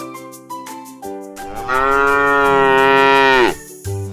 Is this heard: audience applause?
no